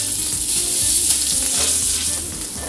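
Swordfish sears in a very hot pan with a loud, steady sizzle and crackle, a dense continuous frying hiss with nobody talking.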